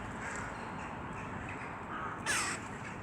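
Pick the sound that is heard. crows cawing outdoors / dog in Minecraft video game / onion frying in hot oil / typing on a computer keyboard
crows cawing outdoors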